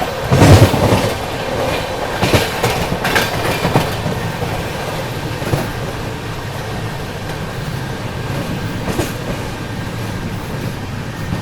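The Humsafar Express on its Rameshwaram to Firozpur run rumbles along the rails with a continuous close roar, a few sharp clacks over the track joints early on, then a steadier drone.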